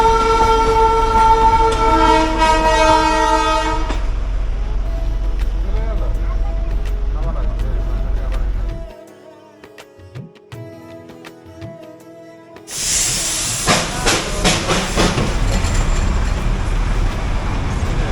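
A Darjeeling joy ride toy train passes close by on a mountain road, its loud rumbling run broken by a brief quieter lull before a sharp, bright hiss or horn blast rises again.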